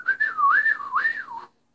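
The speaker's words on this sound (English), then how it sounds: "Whistle!" A single clear whistled melody, close and fairly loud, gliding up and down in pitch for about a second and a half before stopping into silence.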